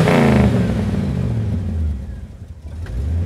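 A car engine with dual exhaust pipes revs up loudly close by, then the roar sinks and settles into a lower rumble before rising slightly again.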